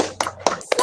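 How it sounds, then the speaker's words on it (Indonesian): Schoolchildren in a classroom perform a short rhythmic spirit clap, three crisp hand claps in quick succession, close and fairly loud with no talk over them. "Tepuk semangat"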